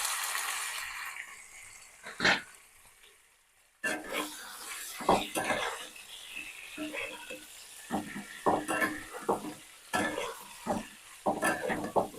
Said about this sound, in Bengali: চিকেনটা দিয়ে একটু ভেজে নেবো।